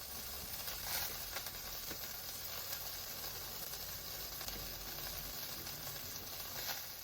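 Garlic sizzles in smoking-hot olive oil, a steady close hiss of frying that runs unbroken with faint crackle and no talk.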